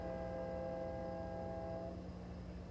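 Freight train rolling past a trackside camera at Fort Madison, a steady low rumble with a sustained tonal hum throughout, fairly faint and distant, no talk.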